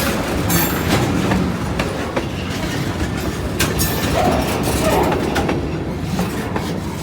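A freight train rumbles past close by, loud and continuous, with rhythmic clacking of wheels over rail joints and faint metallic squeals.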